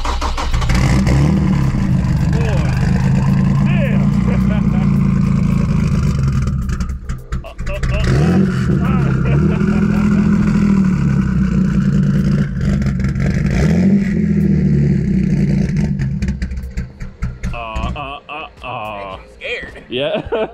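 A car with an 800 horsepower engine and side exit exhaust roars through a burnout, its loud engine held high and surging in revs with clattering bursts, while people talk nearby near the end.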